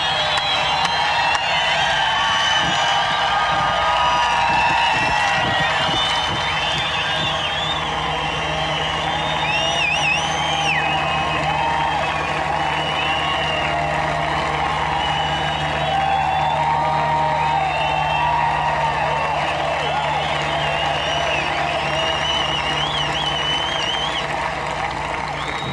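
Large golf gallery at the final round of the 1996 U.S. Open at Oakland Hills, sustained loud applause and cheering with whoops and shouted voices, steady and dense throughout.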